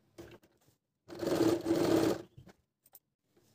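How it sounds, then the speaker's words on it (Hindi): Sewing machine stitching elastic onto fabric runs in one close, loud burst of about a second with a steady whirring motor, bracketed by small clicks and handling noises. "अब हम इसको फिर दोबारा से ऐसे जो हमने छोड़ा था वहीं से इसको सिल के पक्का करते हैं।"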